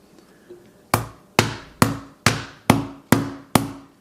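A hammer strikes the screen of an iPhone 12 Pro seven times in steady succession, each blow a sharp, close, loud crack with a quick ringing decay, preceded by a couple of faint taps.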